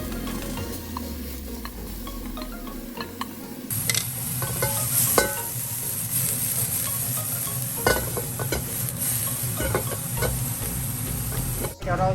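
Steady sizzle of marinated pork frying in a nonstick pan jumps louder partway through, with scraping and clanking of a utensil stirring in the pan.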